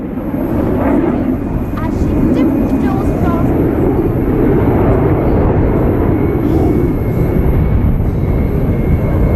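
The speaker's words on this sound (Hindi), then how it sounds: "कई खूबियों से लैस ये लड़ाकू विमान और हेलीकॉप्टर" Fighter jets and helicopters fly over the Aero India 2021 air show in Bengaluru, making a loud, steady, continuous engine roar that fills the whole stretch without letup.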